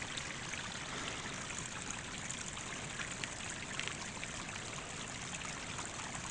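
A small mountain stream trickles over moss and dirt, giving a steady broadband babble that stays constant and fairly close with no voices.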